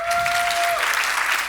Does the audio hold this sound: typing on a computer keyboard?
no